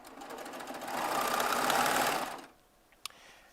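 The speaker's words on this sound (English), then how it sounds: "we're going to get all 40 of these strips sewn together lengthwise" A Baby Lock Triumph serger stitches long fabric strips together, running in a loud, steady whirring burst for about two seconds before stopping, followed by a faint click.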